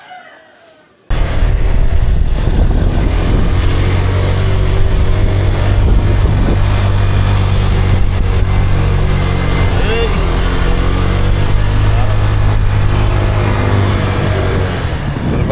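Motorbike engine straining uphill on a road on Nusa Penida, Indonesia: a loud, steady, close drone with a strong low hum that holds for about fourteen seconds after a brief quiet start.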